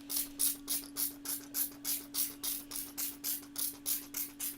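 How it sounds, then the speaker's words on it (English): A hand spray bottle mists water onto a watercolor panel in about fifteen quick, evenly spaced bursts, each a short close hiss, over a faint constant hum. "I'm gonna grab my spray bottle and I'm gonna spray this"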